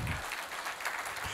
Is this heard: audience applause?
yes